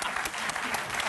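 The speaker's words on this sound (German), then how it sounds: "Wollt ja jemand klatschen?" An audience in a German TV talk-show studio breaks into a short burst of dense, even applause that fills the room.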